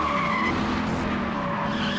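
A Mini skids in the racing game Gear Club Unlimited 2, with a sustained tire squeal riding over a constant engine hum, loud and unbroken.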